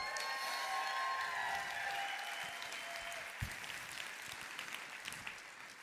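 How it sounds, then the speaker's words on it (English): Audience applause fills a Saturday evening session at the My Daily Choice Convention, a dense, steady clatter of many hands that slowly thins toward the end, with a few louder claps standing out. "Let's give him one more round of applause."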